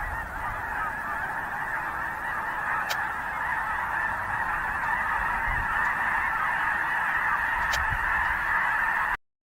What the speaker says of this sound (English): I'll just pop the snow geese video up as well, just because I think it shows another good video of some birds in the estuary.